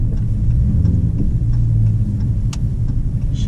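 A Dodge Scat Pack's engine sends a deep, steady low rumble that fills the space, idling close and loud with slight faint ticks and a brief click over it.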